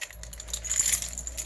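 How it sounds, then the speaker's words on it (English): Keys dropped in a garage, a brief bright metallic jingle and clatter close by over a low background hum. "Oh, drop the blooming keys."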